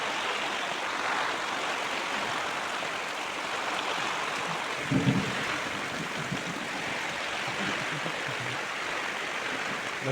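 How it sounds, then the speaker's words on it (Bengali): Heavy monsoon rain falls with a light wind storm, a dense, even roar of downpour that fills the whole stretch with no pause, one brief thud near the middle. "ভালো বৃষ্টি হচ্ছে, সাথে ঝড় হালকা পাতলা।"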